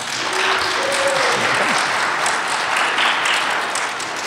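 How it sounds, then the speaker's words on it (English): A panel audience at a fighting-game event gives a sustained round of applause, steady and dense for several seconds, with faint voices mixed in. "Can we just give our panelists a big round of applause?"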